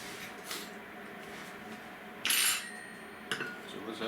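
A knife scrapes and clinks against a plate while spreading butter onto frozen waffles, with a few brief metallic taps and one louder scrape, all faint and close.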